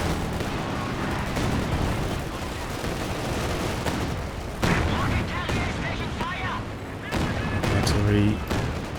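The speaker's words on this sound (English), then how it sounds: "Artillery trading blows." Artillery in the Company of Heroes 2 strategy game trades blows as dull booms and crackling gunfire across a dense battle din, with sharper bursts landing around the middle and end.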